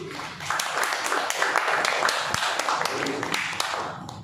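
Audience applause at a Toastmasters club meeting, a steady crowd of clapping hands at moderate distance, sustained and even across the whole span with scattered sharper claps.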